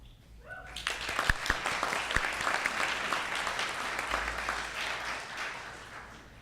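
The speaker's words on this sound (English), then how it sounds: "I would urge you to hold off the applause until I announce all our external committee members" An audience at a university hooding ceremony claps steadily at moderate loudness, with a few sharper nearby claps standing out early on.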